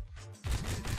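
A player-built gun turret in the Scrap Mechanic video game fires a dense, rapid burst of loud shots, starting abruptly after a brief low hum and continuing steadily to the end.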